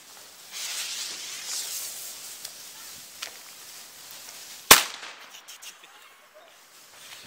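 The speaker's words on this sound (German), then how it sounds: "dann kommt ein Kanonenschlag von Beko" A hiss builds before a single sharp, loud bang from a Beko Kanonenschlag firecracker, followed by scattered crackles and a fading echo.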